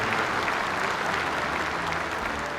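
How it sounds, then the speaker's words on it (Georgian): Dense, even applause from an audience, a continuous wash of many hands clapping at close range with no voices over it. "ტაში ამხანაგებო"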